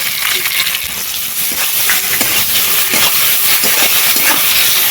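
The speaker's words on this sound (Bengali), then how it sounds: "পেঁয়াজগুলো ভাজা হয়ে গেছে এবার দিয়ে দেবো টমেটো কুচি" Chopped tomato sizzling loudly in a pan of fried onions and black cumin, a steady dense hiss with crackling throughout, close and continuous with no talking.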